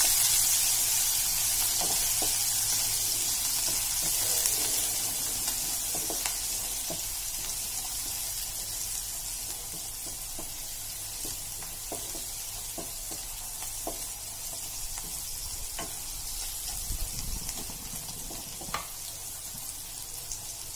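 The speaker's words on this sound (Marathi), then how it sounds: "कांदा छान परतून घेऊ आपण।" Onion and green chili sauté in a pan with a soft, even hiss of frying and occasional light taps of stirring, fairly quiet and steady with no speech.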